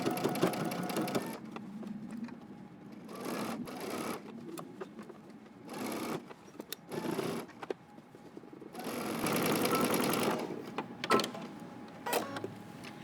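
A sewing machine stitches around a jacket sleeve hem with a 1 1/4 inch allowance for the Simplicity 8749 Mimi G jacket. It comes in several start-stop bursts of close, rapid whirring with short pauses between.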